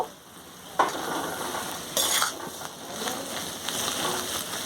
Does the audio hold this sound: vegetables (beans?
yes